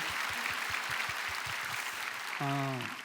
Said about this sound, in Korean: 우리 박수 칠까요? 하나님께?